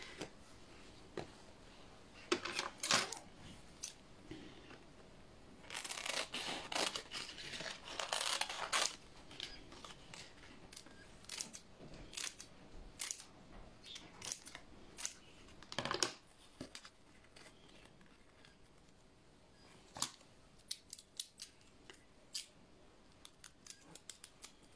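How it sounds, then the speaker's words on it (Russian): Zigzag scissors snip through wafer paper while small flowers are being made. Sharp, close, irregular cuts come singly and in quick bursts, with soft paper rustling between them and no talking. "Для тех, кто позже присоединился, ножницы зигзаг."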